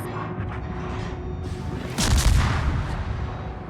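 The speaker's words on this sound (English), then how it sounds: "I'm about to eat an entire salvo of torpedoes again" A torpedo salvo slamming into a warship in World of Warships, a heavy booming impact swelling midway over constant engine and ocean rumble.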